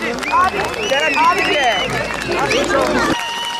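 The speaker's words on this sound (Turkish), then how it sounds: "Yine çok güçlü alkışlarınızla kürsüye davet ediyorum." A large crowd at a Togg car event applauds as a speaker is welcomed to the podium, steady clapping mixed with loud cheering voices and shouts until the sound cuts off sharply near the end.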